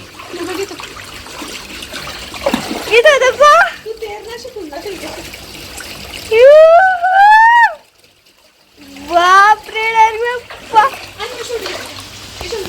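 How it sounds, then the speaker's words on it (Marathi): Floodwater flows and splashes through the rooms of a house, a steady wash of water under frequent talking voices, with short pauses between the bursts of speech. "माझ्या पायापर्यंत पाणी येते"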